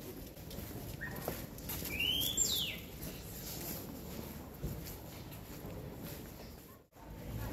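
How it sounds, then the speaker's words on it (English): A bird calls outdoors on a walk around St Ives in Cornwall, a couple of short, clear whistled notes sliding up and down early on, fairly close over quiet street ambience and footsteps. "some bird is trying to grab my attention."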